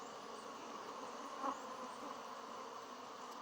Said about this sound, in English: Try not to kill bees, eh?